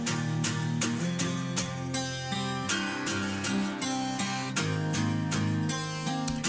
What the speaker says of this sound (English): acoustic guitar finally enters.